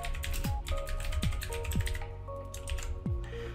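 Someone types text into a PowerPoint slide on a computer keyboard. Quick, close, moderately loud key clicks come in short bursts with brief pauses, and there is no speech.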